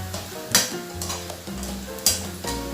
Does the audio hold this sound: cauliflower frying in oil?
yes